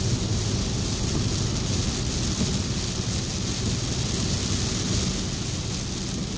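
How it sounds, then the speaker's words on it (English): Rain falling outside, a steady, even wash of dense noise that stays constant throughout with no voices. "Kind of raining."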